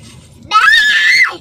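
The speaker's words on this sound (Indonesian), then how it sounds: "Siapa yang teriak-teriak tu?" A person lets out one loud, high-pitched scream lasting under a second, sudden and close, after a stretch of quiet low background sound during a homecoming road trip.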